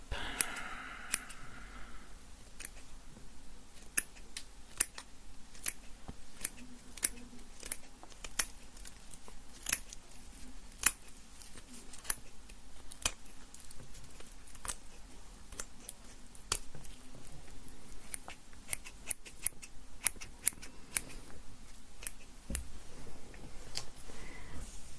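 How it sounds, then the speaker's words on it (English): Scissors snipping lavender stems: sharp, close clicks and snips scattered irregularly over a soft background hush, with no talking. "Just gonna give a little snip here."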